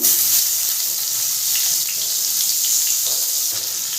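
Sliced onions frying in hot oil in the pan where rohu fish was just fried for a Bengali potato and fish curry: a steady, dense, close sizzle and crackle running throughout with no talk.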